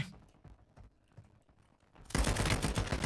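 Rapid automatic gunfire erupts in the mobile battle royale shooter Warzone Mobile, a dense continuous burst after a couple of seconds of quieter clicks and taps.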